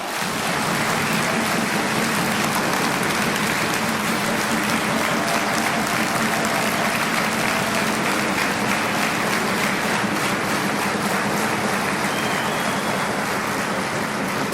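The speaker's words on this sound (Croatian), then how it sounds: "Slobodno neka pljesak traje" A large crowd claps steadily and loudly without a break, filling an indoor hall at a 25th anniversary event of a Croatian political youth organization in Zagreb.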